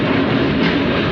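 A passenger train running from Puttalam toward Colombo Fort in Sri Lanka, nearing Palavi station, gives a steady, loud broadband rumble and rattle from close by, unbroken throughout with no talking.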